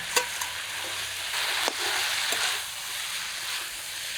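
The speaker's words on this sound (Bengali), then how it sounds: "লতির সাথে মাথাটাও ভাজা ভাজা করে নিলাম" Taro stolons frying together with hilsa fish heads in a pan, giving a steady hiss with a few sharp pops and spits near the start, close and moderately loud, with no talk.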